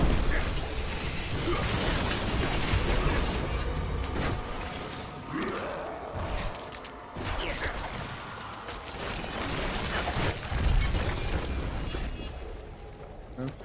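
Artillery strikes and explosions from the video game Diablo 4 crash and burst in a busy, loud sequence, with shattering debris and heavy low booms spread across the stretch.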